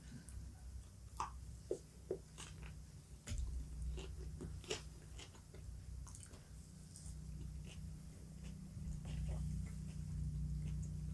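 Close-up biting and chewing of a steak taco topped with jalapenos, with crisp crunches and wet squishy mastication repeating irregularly over a low background hum.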